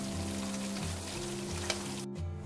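Fish fried in oil for a fish curry masala, steady close sizzling and crackling of hot oil in a pan as the fried pieces are lifted out, with a brief sharper knock near the end.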